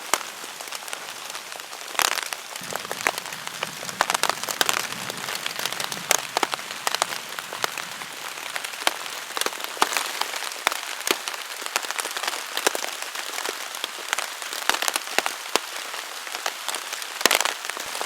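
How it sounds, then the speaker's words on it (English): Rain falls steadily on a tent in a stormy forest, a dense, even patter with heavier drops cracking sharply on the fabric at irregular moments, close and continuous with no voices. "Just laying here and listening to the rain."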